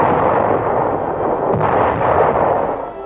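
Loud, sustained artillery fire from 1944 wartime footage, a dense roar of booming blasts that merge into a continuous barrage for a few seconds, heavy and close with no voices over it.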